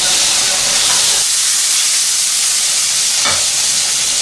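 Eel sizzling loudly as it fries in a pan, a steady, bright hiss of hot oil close up, with one short crackling flare near the end and no voices.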